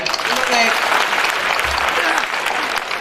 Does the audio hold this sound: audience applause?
yes